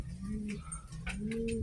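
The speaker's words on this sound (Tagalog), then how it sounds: "So update tayo dito sa mga kalapati nga natin." Pigeons cooing in a loft, low rolling coos repeating close by in two long phrases, with faint chirps and rustling around them and no talk.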